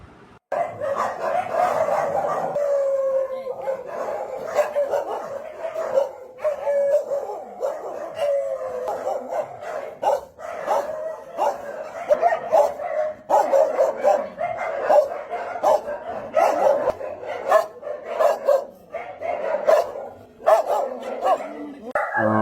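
Many rescued street dogs at a shelter in Sanganai, Jaffna, bark, yip and howl almost continuously. The chorus is loud and close and overlaps throughout.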